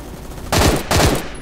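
MG36 machine gun in a video game firing two short bursts of rapid shots close together, loud and sharp with a brief gap between them and no voices.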